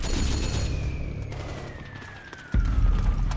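Gunfire in Metal Gear Solid 4 crackles in rapid bursts over a falling, siren-like whine on a battlefield, followed by a sudden heavy low thump near the end.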